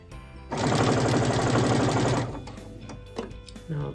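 A sewing machine stitches rag quilt seams in a fast, loud, steady mechanical rattle for about two seconds, then slows and stops, leaving faint handling noises.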